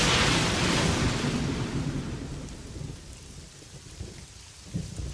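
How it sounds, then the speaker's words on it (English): Loud thunder crashes through heavy rain in a forest storm, a big lightning strike rumbling at the start and fading into steady downpour with smaller rumbles after. "Suddenly, the tree was struck by a powerful bolt of lightning."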